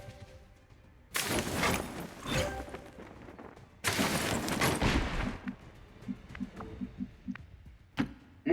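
Bursts of enemy gunfire in XCOM 2, two loud sustained volleys of rapid shots followed by a string of fainter, scattered single impacts and a final sharp crack.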